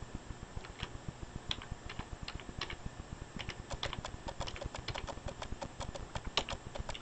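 Keys on a computer keyboard clatter in quick, uneven bursts as a folder name is typed on a Windows computer, close and clear with short pauses between runs of keystrokes.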